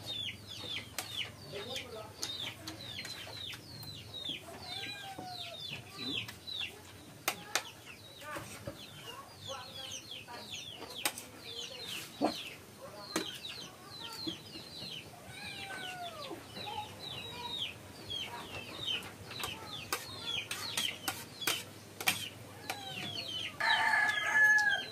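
Chickens cluck repeatedly and a rooster crows amid a busy farmyard, with bird calls scattered throughout at moderate distance and faint background activity.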